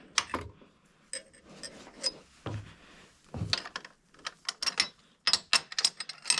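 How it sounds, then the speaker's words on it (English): Torque wrench ratcheting a bolt on an engine being refitted to the frame, a series of quick mechanical clicks in uneven bursts, close and fairly faint against a quiet background. "I want to have two hands on this torque wrench so that it doesn't round the bolt"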